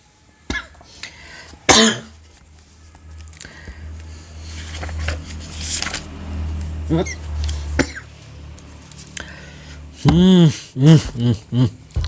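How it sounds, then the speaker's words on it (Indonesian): A few harsh coughs and throat clearing, close to the mic, alongside talking, ending with a strained burst of voiced sound. "batuknya."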